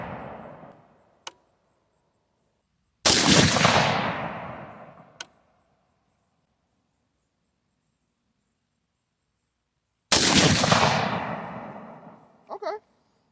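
Three loud, sharp shots from a 22-250 AR10 rifle firing Herter's 55 grain factory ammunition at 100 yards, each a crack with a long decaying boom, spaced several seconds apart, plus a couple of fainter clicks between them.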